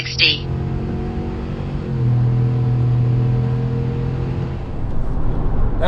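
A 2024 Chevy Tahoe RST with a naturally aspirated V8 accelerates hard from 0 to 60, a loud, steady engine drone rising in pitch from inside the cabin, with a brief voice at the start.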